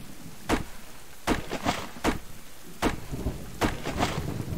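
Rain and thunder in the survival video game Subsistence: a steady wash of rainfall with repeated sharp thunder cracks and rumbles rolling through at irregular intervals, loud and close, with no voices.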